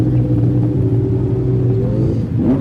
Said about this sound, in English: Sidecars rolling out now.